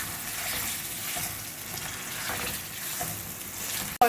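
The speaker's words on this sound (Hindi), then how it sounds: "ये देखें, अच्छे से मसाले फ्राई हो चुके हैं।" Red chilies and spice paste sizzle and fry steadily in a pot while making beef haleem, a continuous close crackling hiss with a faint stir near the end.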